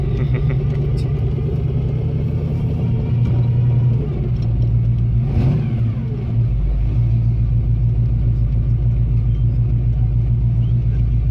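A Ford Mustang, long parked with a damaged engine, out on its first drive: a loud, steady engine drone and road rumble heard from inside the car, with a short dip in the middle.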